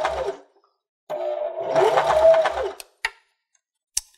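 Sewing machine stitching fabric for a simple sunglasses case, a short whir followed by a longer steady run of stitching nearby, then a few isolated clicks and taps.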